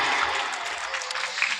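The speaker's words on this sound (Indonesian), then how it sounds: "Berikan tepuk tangan sekali lagi yang meriah." An audience at a school arts performance applauds in a lively burst, a dense, continuous clatter of many hands clapping close by for the whole moment.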